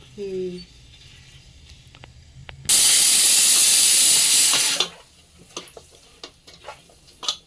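Ginger garlic paste hits a hot pan for Andhra-style fish curry, bursting into a loud, steady hissing sizzle for about two seconds before settling into quieter stirring clatter; a voice speaks briefly at the start.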